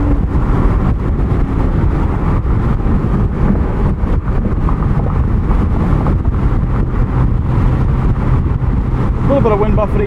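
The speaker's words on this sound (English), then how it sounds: "A little bit of wind buffeting at speed, but seems about average for any convertible these days." Wind buffets a 2023 BMW Z4 M40i convertible at speed. A dense, roaring rumble mixes with road and engine noise, loud and unbroken throughout.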